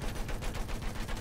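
Gunfire in the video game Battlefield 1 bursts out in rapid repeated shots, a dense, fast rattle that fills a brief moment.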